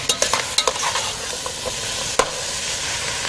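Sausage and vegetables sizzle in a big soup kettle with a steady close fry, broken by sharp scrapes and clacks of a spoon stirring the pot.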